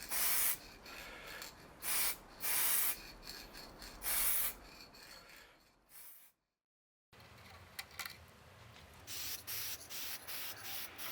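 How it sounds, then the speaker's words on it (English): An aerosol spray can hisses in several short bursts, separated by pauses and a moment of silence, close and fairly loud. "I always start spraying outside the surface and then move onto the surface"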